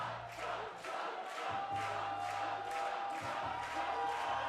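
Crowd at a bouldering competition finals cheering and roaring in rhythmic swells, loud and continuous, with a low hum underneath.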